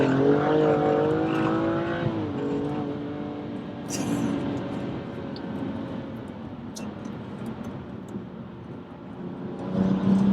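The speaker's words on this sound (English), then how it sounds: "This is a 6-cylinder engine" A BMW M235i's six-cylinder engine revs while driving, pitch climbing under acceleration before dropping and settling into a lower drone, then rising again at the end, heard from inside the car.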